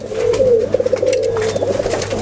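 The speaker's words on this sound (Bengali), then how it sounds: "এই কবুতর আপনার লাল পিলং কবুতর বলে" A red pilong pigeon coos close by, a loud rolling series of throaty pulses lasting about two seconds with no voices over it.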